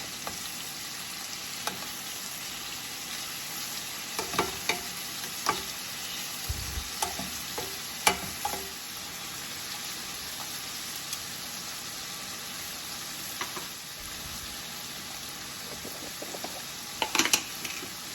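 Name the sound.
shrimp frying in a pan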